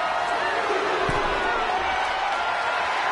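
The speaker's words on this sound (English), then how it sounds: "The sound of this crowd is deafening, and he's asking for more." Wrestling arena crowd in WWE 2K23 roars continuously as a loud, dense wall of cheering, with a brief low thump partway through.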